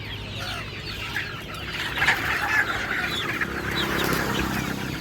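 A chicken clucks nearby in short bursts at a roadside chicken seller's stall, over a low, steady background murmur.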